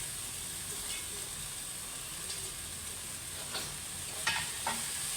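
Radish leaves stir-fry in a pan with a steady soft sizzle and hiss, broken by a few brief scraping clicks of stirring toward the end.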